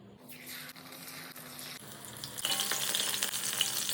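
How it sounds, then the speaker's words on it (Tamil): Chicken fries on a dosa griddle, sizzling softly at first and then growing to a brighter, louder crackle with small pops and the scrape of stirring. "முதல்ல ஆவில வச்சு சிக்கனை பொரிச்சு எடுத்துடலாம்"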